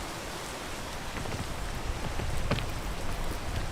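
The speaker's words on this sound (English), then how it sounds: "Can I get up here even in the rain?" Steady rain falls in a video game, a dense hiss of drops on surfaces that grows slightly heavier, with a few louder splatters along the way.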